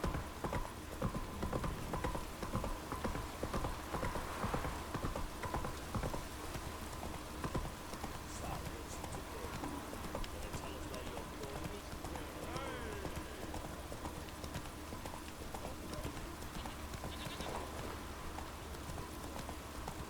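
Hooves of the horse Roach clip-clop in steady rhythm through The Witcher 3: Wild Hunt video game, continuous and fairly close, with someone talking over them and a faint patter like rain in the background.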